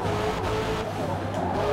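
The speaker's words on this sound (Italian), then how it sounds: "Il mio motore si sente? È performante, su. Si sente il motore." A racing car engine in Forza Motorsport roars steadily and loud at high revs for a short stretch, with faint tyre noise under it.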